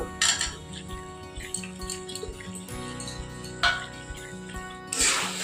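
Paneer and mixed vegetables are stirred with spices in a pan, giving a series of scraping and clinking spoon-on-metal strokes at irregular intervals, close and moderately loud.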